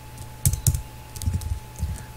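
Code is typed on a computer keyboard in short clusters of sharp clicks, two louder keystrokes first and then softer runs of taps, close up with no talking.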